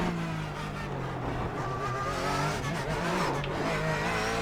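Porsche 911 GT3 Cup race car in the iRacing sim, its engine droning steadily loud and close throughout, with rising and falling revs and a brief tire scrub, no voices.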